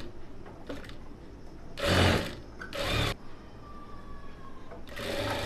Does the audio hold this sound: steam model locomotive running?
no